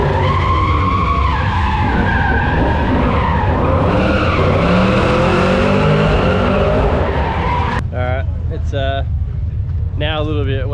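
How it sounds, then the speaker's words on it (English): Drift cars skid with loud squealing tires at Summernats, a large Australian car and burnout festival, giving a continuous roaring screech for most of the run, then short bursts of tire squeal close by. "The drifting's about to start, so we'll check it out."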